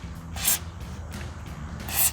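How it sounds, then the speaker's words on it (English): A can of WD-40 is sprayed behind the front wheel hub of a Ford F-150 during a wheel bearing and hub replacement, in two short hissing bursts, close by and moderately quiet, with handling noise in between. "just as a precaution, I'm gonna go ahead and spray some WD-40 behind there"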